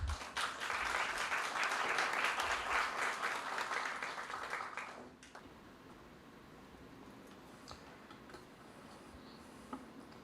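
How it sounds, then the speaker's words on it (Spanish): Applause from an audience welcoming the author presenting his book on Quechua wisdom and mental health in Peru, loud and sustained for about five seconds, then cutting off to a quiet room with faint clicks. "Lo recibimos con un fuerte aplauso"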